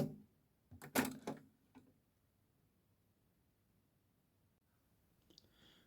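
Automatic door of a Technics RS-631 cassette deck opening: a quick cluster of mechanical clicks and a soft clunk, then near silence with a faint later click.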